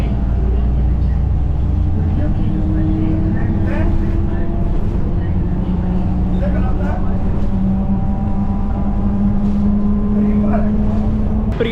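Inside a metro bus in Lahore, a constant loud engine and road rumble with shifting tones as it accelerates and slows, and voices talking over the ride.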